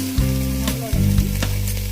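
Mint, cauliflower, broad beans, green peas and rice fry in a pan with a close, loud, steady sizzle, broken by a couple of brief stirring scrapes.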